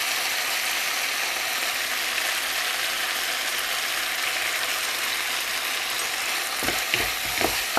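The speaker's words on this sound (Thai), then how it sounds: "ผัดทุกอย่างทุกเคล้าให้เข้ากัน" Stink beans and minced pork are stir-fried in a pan with a loud, steady sizzle, ending in a few scraping, rattling strokes of the spatula near the close; no one speaks.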